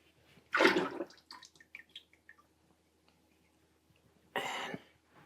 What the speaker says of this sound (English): I'm just gonna pour it in, swirl it around, and pour it out really quickly.